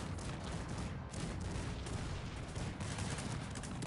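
Musket volleys crackle through a pitched battle in the strategy game Cossacks 3, a dense, continuous roar of overlapping shots and booms at moderate level, with no talk.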